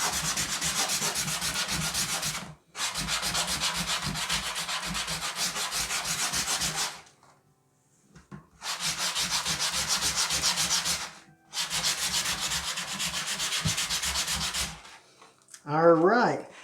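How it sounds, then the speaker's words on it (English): A new straight-razor strop sanded by hand with sandpaper, long close raspy rubbing strokes in three sustained bursts separated by short pauses, ending with a brief squeaky scrape. "did all of that by hand with sandpaper"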